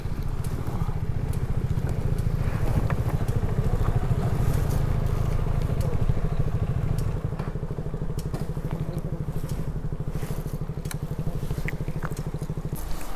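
Three motorbikes on a monsoon ride near a Kudremukh checkpost run steadily, with a continuous close engine drone and rhythmic pulsing throughout, plus scattered faint clicks and bumps.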